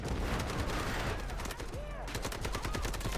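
Rapid gunfire and heavy artillery crack through a video game battle, dense bursts of shots layered over one another with a voice talking beneath.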